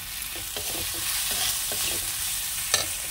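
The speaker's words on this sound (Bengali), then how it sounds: "মশলাটা ভালো করে কষানো হয়ে গেছে" Spice paste with ground coriander, cumin, salt and a little sugar sizzles in a pan, a close continuous frying hiss broken by repeated soft scraping stirs and one sharper clink near the end, no voices.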